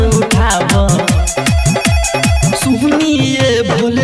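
A telephone ringtone effect inside a Bhojpuri devotional song, heard as loud, rapidly repeating electronic tones with punchy rhythmic beats and synth music throughout, and no voice singing in this moment.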